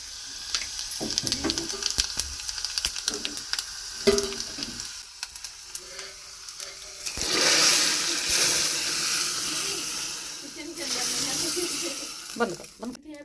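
Spices tempered in hot oil for dal in a home kitchen, with sharp bursts of sizzling and spattering around the middle and again near the end, mixed with clatter of utensils and some voices.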